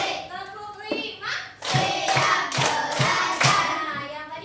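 A class of fourth-grade children claps five sharp times in steady unison rhythm, close and loud, after a stretch of children's voices talking.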